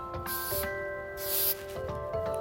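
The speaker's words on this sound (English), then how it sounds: "I'm gonna spray it everywhere in Amy's hair" Redken Fabricate 03 heat protection spray misted over a woman's hair in short, close bursts, two longer hisses standing out against a steady background hum.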